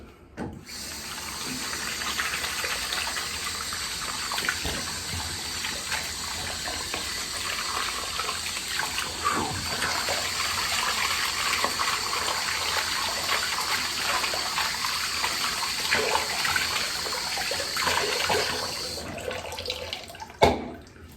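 Steady running water from a tap splashes while a poly hairpiece is washed in a sink, a continuous close rushing stream with small clinks and handling noises, cutting off just before the end.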